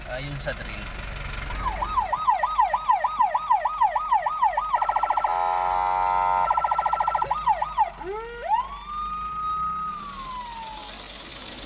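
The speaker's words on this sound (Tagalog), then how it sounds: "tumunog na yung siren, hudyat na kami maghahanda na" A fire truck siren wails loudly nearby during an earthquake drill, cycling through fast warbling sweeps, then a steady tone, then long rising and falling howls, with no talking.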